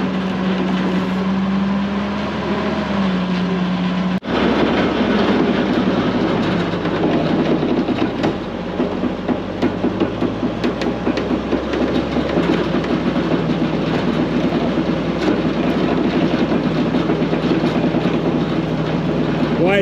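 A truck-mounted recovery winch spools cable back in during a 100-foot mountain vehicle recovery near Silver City, a loud, steady mechanical grinding and rattling drone that runs continuously after a sharp start, with voices talking over it.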